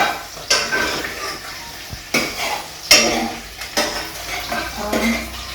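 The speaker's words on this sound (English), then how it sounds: "So I'm turning the potatoes other side." Potatoes being turned over in a frying pan, with utensil scrapes and clinks against the metal over a steady sizzle, close up, in a series of distinct strokes.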